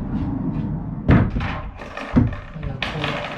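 A Masonite barn door being slid and knocked shut, giving two sharp wooden thumps a second apart amid rolling, scraping rattles, close by in a quiet room with no speech.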